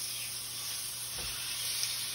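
A seasoned steak goes into a hot pan and sizzles, a steady loud hiss with a brief swell partway through, continuing close by and alone.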